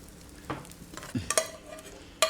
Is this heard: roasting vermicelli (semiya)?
yes